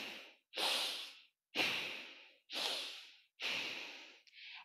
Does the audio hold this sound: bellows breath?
yes